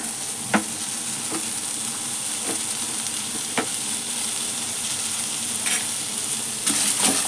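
Onion and garlic fry together in a pan for a military-hotel-style country chicken curry, giving a continuous close sizzle broken by several sharp clicks of a spoon against the pan.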